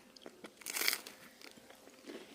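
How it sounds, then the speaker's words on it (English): A close, crisp crunch as someone bites into a toasted quesabirria torta sandwich filled with Instant Pot beef birria, followed by softer chewing. "I'm going to take a bite. And I want you to hear this crunch."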